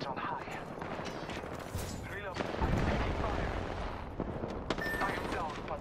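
Gunfire rattles in an Apex Legends arena match, with dense bursts of shots and impacts layered over game effects and a player's voice calling out.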